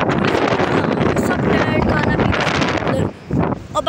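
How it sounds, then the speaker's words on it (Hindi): Strong wind gusts roar across the open shoreline at Manora beach, a loud, continuous buffeting rush with brief dips near the end, mixed with distant voices. "अबे बहुत तेज हवा चल रही है"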